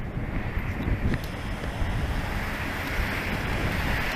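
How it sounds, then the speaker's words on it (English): Strong wind buffets the microphone on the Castle Island shore in Boston, a dense continuous roar with rushing surf-like noise and no voices. "It is chilly. It's a little breezy."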